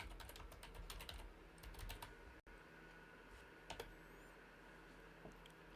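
Fingers type on a computer keyboard, entering a search term: quick irregular clusters of light key clicks, close but quiet, with a brief gap and a few isolated taps later.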